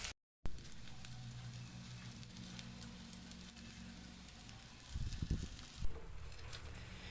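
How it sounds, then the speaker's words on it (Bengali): Semolina and flattened-rice snacks shallow-frying lightly in a pan: a soft, continuous sizzle and crackle at low volume, with a few faint clunks of handling, and no talk. "জলখাবারগুলিকে একদম হালকা করে শ্যালো ফ্রাই করে নিতে হবে"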